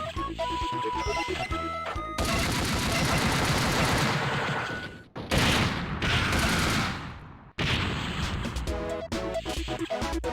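Fireworks burst in the Final Flames video game as dense, rapid crackling explosions in long loud barrages, broken by brief gaps and sharp cutoffs amid game music and effects.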